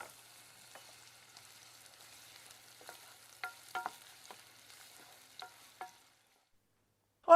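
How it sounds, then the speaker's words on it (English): Onions frying in a little oil in a saucepan, a faint steady sizzle with soft stirring clicks and a few louder scrapes, ending in a near-silent pause before a brief sharp sound. "I've put a little oil into a saucepan and I'm going to fry the onions until they go golden."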